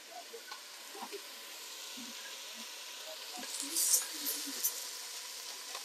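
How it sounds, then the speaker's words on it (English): Rice stirred in a hot pan with onion sizzles faintly and steadily, with soft scraping stirs and small crackles, fairly quiet throughout. "in goes your rice. Just stir it around for about a minute"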